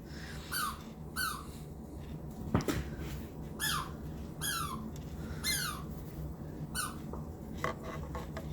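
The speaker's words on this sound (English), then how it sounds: "if the dog doesn't stop with the squeaky toy, I will take it away in a minute" A dog playing with a squeaky toy, producing a rapid series of sharp, high squeaks in irregular bursts, roughly a dozen across the stretch, over a low steady background hum.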